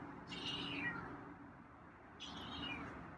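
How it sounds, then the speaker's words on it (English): Two soft, drawn-out meows from a feral cat, a couple of seconds apart, sound close over a low rumbling purr-like background. "there's a meowy purr"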